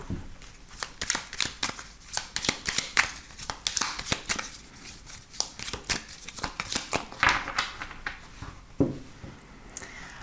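A deck of tarot cards is shuffled and cut over and over, giving a busy run of close, crisp riffling bursts and papery flicks with no voices.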